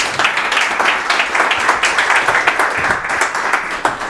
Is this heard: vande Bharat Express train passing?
no